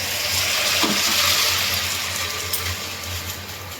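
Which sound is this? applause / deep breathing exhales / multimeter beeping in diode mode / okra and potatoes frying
okra and potatoes frying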